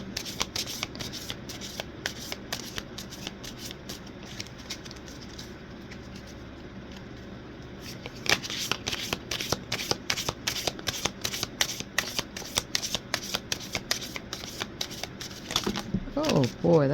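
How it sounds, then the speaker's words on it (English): A tarot card deck being shuffled by hand, with bursts of quick riffling slaps and soft card flicks, close and crisp, intermittent at first and then a rapid continuous run, with a person talking in between. "I'm going to warm up this deck a little bit."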